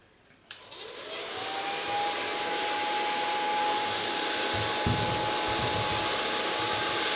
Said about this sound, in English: Now I'm going to blow dry this